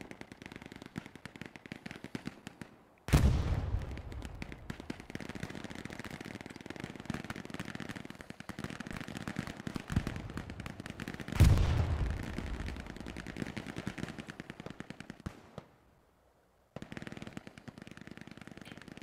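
Gunfire in the World War II shooter Hell Let Loose, with two sharp loud reports ringing out over a steady bed of battlefield noise and distant shooting, the rumble briefly dropping away near the end.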